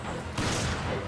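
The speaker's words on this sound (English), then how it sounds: "let's just wait for the gunfire to go off" Gunfire from the Resident Evil 5 video game, a short burst of dense rapid shots that swells suddenly partway through and cuts back near the end.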